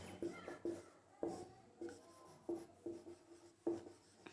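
Pen or chalk scratches out writing during a class 10 science lesson, a series of short, rhythmic strokes, close and quiet, with brief soft speech between them.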